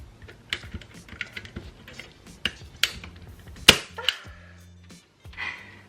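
A stapler fires staples into wire on a scrunchie and bow market display, a series of sharp close snaps and clacks spaced unevenly with quieter handling rustles between, and no voices.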